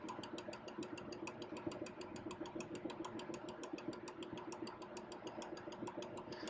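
A fatigue testing machine runs near 400 RPM, giving a steady, faint mechanical hum with rapid, evenly spaced clicking or knocking throughout.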